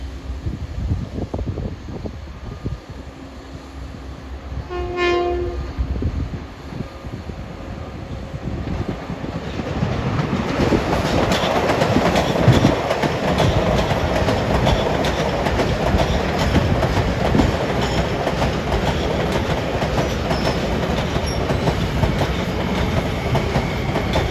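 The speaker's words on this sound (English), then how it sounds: "here comes train 2053, Ronkonkoma to New York. Honking for the workers." A brief horn blast rings out as a Long Island Rail Road commuter train rumbles in on a triple-track line and passes close by, its heavy rolling roar and rail clatter building and holding steady.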